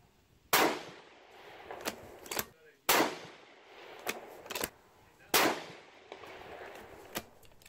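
A Ruger American Ranch rifle in 5.56 fitted with a three-port muzzle diverter fires three loud, sharp, evenly spaced shots outdoors. Lighter clanks and echoes fall between them.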